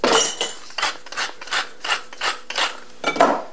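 A hand grinder cracking salt and pepper over cauliflower and onion tossed in oil, about eight rhythmic rasping twists in quick succession, close and clear.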